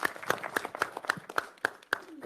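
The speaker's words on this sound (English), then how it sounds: "It deserves a round of applause." A few people at a county executive committee meeting and press conference give a short round of applause, with sparse, distinct hand claps in an uneven rhythm, heard close and fairly faint.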